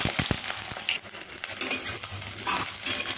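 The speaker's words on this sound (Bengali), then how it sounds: "প্রথমেই আমি কেটে রাখা বেগুনগুলোকে এই তেলে আমি ভেজে নেব।" Cut eggplant pieces sizzle in hot oil in a wok, with close, uneven crackling, spatter bursts and a few utensil clinks as they are moved about.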